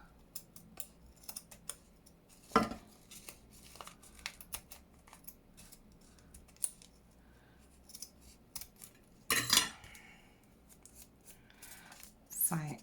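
Scissors snipping through a paper envelope for a junk journal, a few sharp crisp cuts standing out from quiet paper rustling and handling, close by, with a person speaking softly at times.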